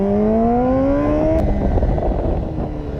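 Close by, a turbocharged car engine winds up in a rising whine, then cuts off with a sharp burst and settles into a rough, rumbling idle.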